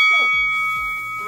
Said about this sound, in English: Ready for the bell?